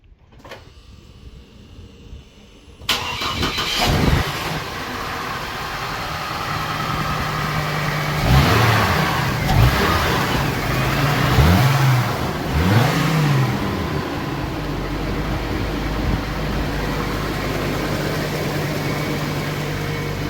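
A Hummer H3 SUV engine cranks and catches, then idles with a deep rumble and is revved several times in short surges before settling back to idle.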